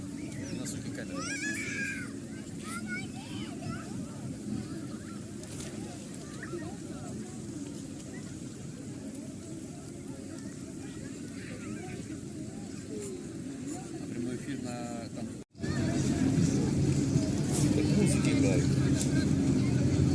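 A pleasure motorboat's engine drones steadily across an open lake while people talk nearby, then the engine noise swells louder and closer near the end.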